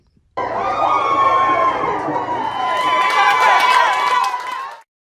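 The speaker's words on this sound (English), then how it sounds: "Bryce's biggest supporters gathered together to cheer him on" A gathered group of hometown supporters cheers an Olympic runner at an early-morning watch party, loud shouting and whooping voices with excited chatter swelling after a quiet start and sustained close by.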